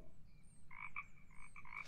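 Frogs croak from a garden patch in the video game Chushpan Simulator 2, a run of short paired croaks that starts partway in and repeats steadily over a low ambient hum.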